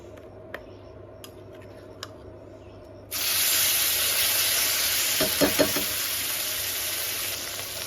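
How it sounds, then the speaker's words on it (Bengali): Spice paste of turmeric, salt, ground coriander and cumin drops into hot oil and bursts into a loud, steady sizzle partway through, following a few light clicks in near quiet, with brief stirring scrapes near the end. "এটা ভালো করে একটু নাড়াচাড়া করে নিয়ে এই তেলের মধ্যে দিয়ে দেবো"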